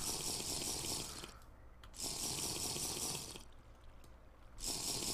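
Running water in the video game Technofirma, a steady faucet-like splashing stream heard in two long bursts separated by a brief quieter gap, fairly soft and with no talking.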